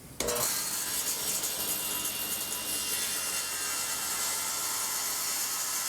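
A glued wooden mallet block being trimmed gives a continuous, fairly quiet rasping cut that starts with a sharp onset and then holds steady and close with no pauses.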